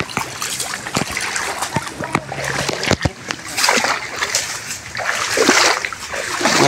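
Water splashing and sloshing as someone wades into a lake thick with water spinach during traditional fishing, broadband wet bursts continuing steadily throughout, fairly close, with a voice speaking over part of it.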